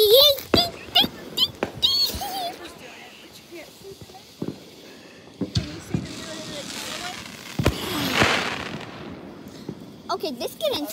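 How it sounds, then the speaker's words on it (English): Small July 4 fireworks going off nearby in a series of sharp pops and crackles, with a longer hissing burst partway through. "Gonna do fireworks"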